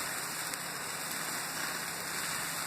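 Wine drizzled onto a braai fire in Scotland gives off a steady, even hiss of sizzling that fills the whole moment, with no talking.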